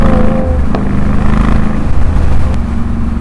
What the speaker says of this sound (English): Sounds good, that old Toyota, I must admit.